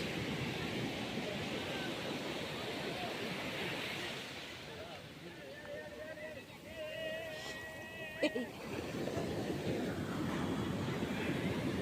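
Sea waves breaking on the beach at Puri, a broad steady wash of surf with wind buffeting the microphone, plus a faint tonal whistle-like sound partway through.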